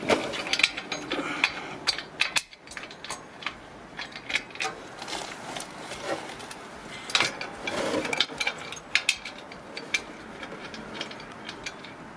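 Quick ratchet clicks come in irregular bursts, mixed with metallic knocks and rattles as bolts are tightened while a bullbar is fitted to a Mitsubishi MQ Triton chassis rail, close by, with no talking.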